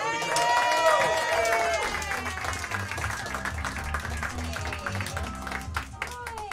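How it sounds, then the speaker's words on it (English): Comedy club audience at a stand-up student showcase applauding a comedian, a warm round of clapping and crowd noise with voices and cheers mixed in, fading slightly as it goes. "a huge round of applause for Kendra Landsberg, everybody"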